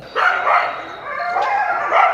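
A dog barks in a short series of sharp, high yips and woofs, close and loud, in a comic horror sketch.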